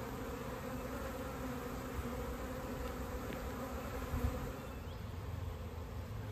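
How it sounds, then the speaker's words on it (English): A honeybee swarm hums around a newly moved hive box outdoors, a steady, fairly faint drone of wings with occasional louder passes as bees fly close. "There's still a few bees flying around, but for the most part, most of them have gone in."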